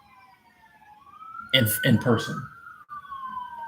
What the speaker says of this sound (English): Man, there's so many sirens out here.